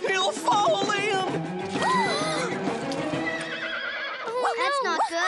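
A cartoon horse neighs and whinnies repeatedly, loud and close, with warbling rising-falling cries, clip-clopping hooves and a character shouting over it.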